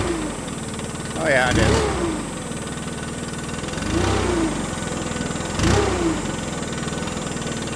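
Stihl BR600 backpack leaf blower engine idling steadily, with three surging revs that swell and fall back, close and loud, while a person speaks briefly over it.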